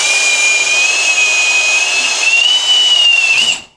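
A power drill bores into a steel wall while venetian blinds are being fitted, giving a loud, steady high-pitched whine for several seconds that shifts slightly in pitch before cutting off abruptly.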